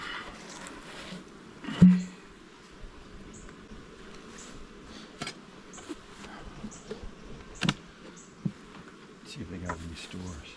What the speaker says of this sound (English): look like happy bees